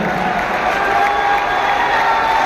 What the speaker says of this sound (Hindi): आपके तालियों की गूंज आनी चाहिए मंच तक।